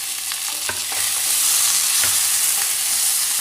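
Red chili, onion and tomato sauté in a pan for idli upma, with a loud continuous sizzle and repeated scraping stir strokes close by, with no voices.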